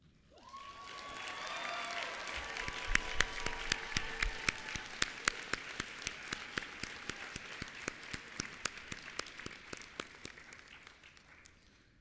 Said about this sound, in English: So one last round of applause for our new registered nurses.